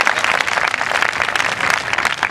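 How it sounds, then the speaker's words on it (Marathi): Dense, steady applause from a large crowd at a Hindu rally in Solapur, a continuous wash of many hands clapping at once, moderately loud and unbroken. "आपल्यासाठी आपण एकदा टाळ्या करा."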